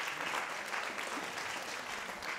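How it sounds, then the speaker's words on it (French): Sustained applause from the audience at a prize-giving ceremony for a kamishibai contest, dense and even clapping from a crowd filling the whole stretch. "Voilà, donc encore un petit applaudissement"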